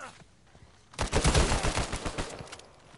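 Rapid burst of gunfire from a gun in the Uncharted 4 multiplayer video game, a loud dense run of shots lasting about two seconds after a quieter start.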